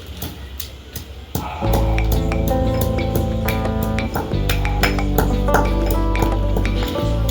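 Garlic pounded finely in a mortar gives repeated sharp metallic-sounding strikes at a brisk irregular rhythm over a sustained ringing tone, close and loud, with no talk.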